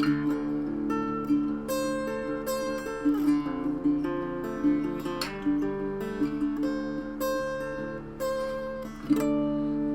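Acoustic guitar strumming the three chorus chords of a song, a steady rhythmic pattern of ringing strums played at moderate volume with no voice over it.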